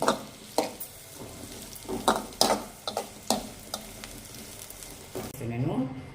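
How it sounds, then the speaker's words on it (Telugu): Chopped bottle gourd, ginger, garlic and green chillies sizzle in oil in a home kitchen pan. A spatula scrapes and stirs in repeated sharp strokes over a steady frying hiss, with a brief louder sizzle near the end. "కొంచెం ఆయిల్ వేసి ఫ్రై చేసుకోవాలండి ఇవి"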